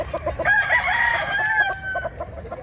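Large chickens crowing loudly and close by, one long rooster call rising and falling for about two seconds over steady clucking from a farm flock in Barili, Cebu.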